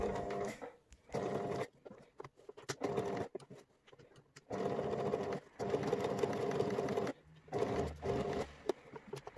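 A domestic sewing machine stitching a fly into fabric runs in several steady whirring bursts of a few seconds each, separated by short pauses, close and fairly loud with no speech.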